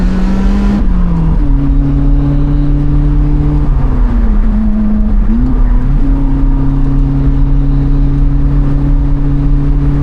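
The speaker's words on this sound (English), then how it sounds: "Now we're gonna drive down the other road, which is a bit more narrow." Loud engine drone from a car being driven along a narrow one-lane road, a steady tonal note that shifts pitch as the revs change and gears shift, close and continuous throughout.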